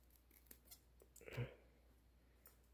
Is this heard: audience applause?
no